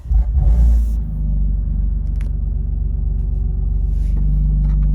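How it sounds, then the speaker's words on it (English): A BMW M4 (F80/F82/F83) engine in a garage fires up with a loud starter burst, then settles into a deep, steady rumbling idle close by, with no voices. "So I'm going to go ahead and start the car."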